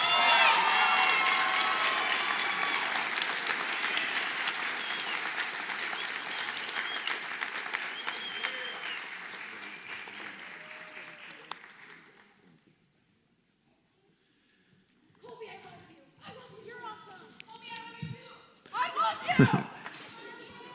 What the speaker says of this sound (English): So one more round of applause for Colby.